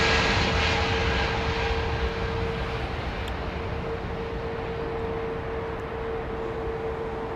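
A large airliner, an Airbus A340-600 or A380, taxis slowly at an airport, its engines producing a steady, loud, continuous roar with a sustained whine that holds evenly throughout, with no voices.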